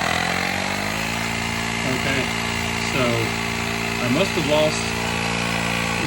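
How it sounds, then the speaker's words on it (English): Auxito smart pump inflating a car tire that had lost all its air, a loud steady motor drone running throughout with a person talking over it. "you guys can probably hear the pump running in the background"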